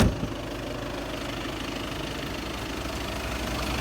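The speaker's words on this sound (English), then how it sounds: "That's the engine running. 69 on the clock. Car is ticking over like a baby" A 2014 Audi A3 2.0 TDI Sport 150bhp Sportback diesel engine ticking over at idle, a steady low rumble with a faint rhythmic clatter, close and even throughout with no talking.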